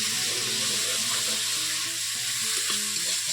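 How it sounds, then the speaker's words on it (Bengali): Potatoes and a little onion fry in hot oil in a karai, a steady, loud, unbroken sizzle that stays close and even for the whole stretch, with no talking. "এই কড়ার তেল গরম হয়ে গেছে, আলুগুলো দিয়ে দিলাম।"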